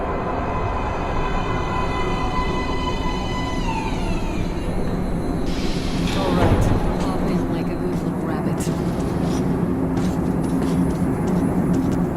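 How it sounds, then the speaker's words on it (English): A metro train pulling into an underground platform in the video game Metro Last Light Redux, a loud rumbling approach with a falling whine, clanks and screeching brakes under a constant roar. "Train coming in."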